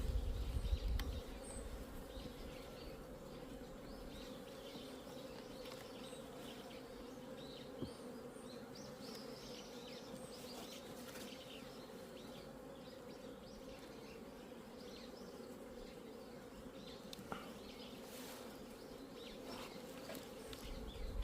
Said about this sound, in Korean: 그러고 나서 이제 벌 움직임이 완전히 이제 쪼그라들었다고 보시면 돼요